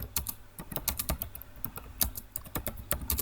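Fingers type rapidly on a computer keyboard, with close, crisp keystrokes clattering in an uneven rhythm and no voices over them.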